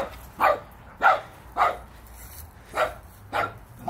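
A 13-year-old dog at play gives six loud barks at an even, regular rhythm, close by, with quiet gaps between them.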